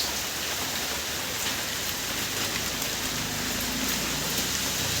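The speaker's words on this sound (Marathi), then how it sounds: "पावसाचा आज जबरदस्त रूप आहे गटारी गाजवतो आहे पाऊस" Heavy monsoon rain lashes a village yard and overflows a gutter, a thick, steady roar of drops hitting hard surfaces, close and unbroken from start to finish.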